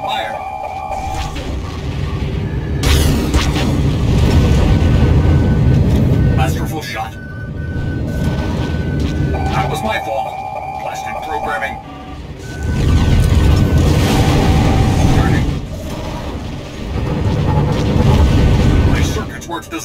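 In a space combat game, enemy missiles strike a starfighter with repeated heavy booming blasts that roll in every few seconds over constant engine rumble, with bursts of beeping warning tones between hits.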